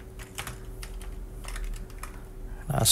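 Fingers type steadily on a computer keyboard while writing Excel VBA code, a close run of quick key clicks ending in a louder clatter.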